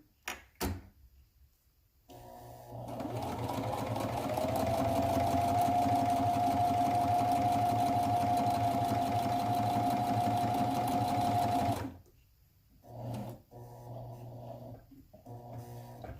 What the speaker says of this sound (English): Come back around, do a little straight stitching.